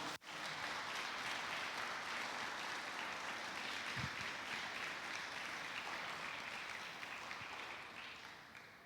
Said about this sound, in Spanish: Si le vas a dar un aplauso al Señor, dáselo fuerte.